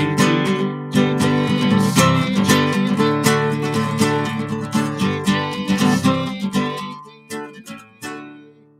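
Bright, ringing struck-string dulcimer chords played in a flowing progression in D, notes shimmering and sustaining before fading toward the end.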